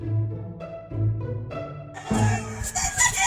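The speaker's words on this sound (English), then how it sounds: "I thought it was a pretty little pen of chickens" Chickens in a small backyard pen, including an Albany rooster and spangled hens, cluck in short repeated bursts, then a rooster crows loudly near the end, close by with no talk.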